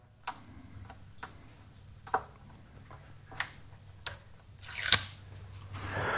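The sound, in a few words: peeling double-sided tape for a Jeep grille install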